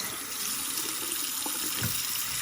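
Tap water runs steadily into a sink while a makeup sponge is rinsed and wrung out, a broad continuous splash with a few brief squishy bursts near the end and no talking.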